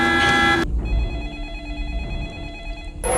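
A telephone in a film rings with a loud electronic bell, a first burst followed by a steady, softer trill, and then the ring starts again at the end.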